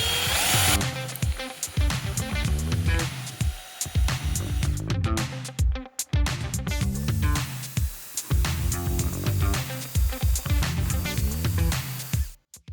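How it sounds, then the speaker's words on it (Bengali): An electric drill whirs steadily in repeated bursts, pausing briefly and restarting, close and loud with no talking. "তো ছিদ্র করার জন্য আমি ড্রিল মেশিনটি ইউজ করছি"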